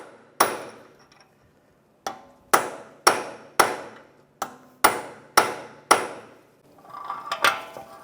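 A hammer strikes a punch to drive the axle out of a 2004-2010 BMW X3 hub during ball joint replacement, about eight sharp metallic blows with uneven gaps, close and loud, followed by some clinking.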